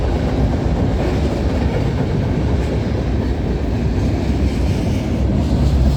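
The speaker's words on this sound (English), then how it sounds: "I looked on the log and this train doesn't have a DPU on it." A CN freight train passing on the Dundas Subdivision, a loud, close, continuous rumble of rolling railcars with rhythmic wheel clatter over the rails.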